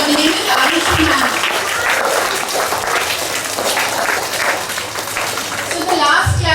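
A school assembly audience of children claps together in a loud, sustained burst of applause lasting several seconds, with young voices calling out beneath the clapping.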